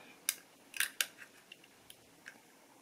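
A small black button is pressed so a little white pin pops out, making a few sharp plastic clicks close up, followed by fainter scattered ticks against quiet room tone.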